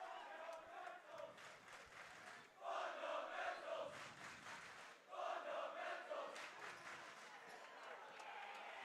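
A crowd roars at a high school prep league basketball semifinal with a doubled student section, swelling in two loud bursts of chanting and cheering over a steady background din, with talk mixed in.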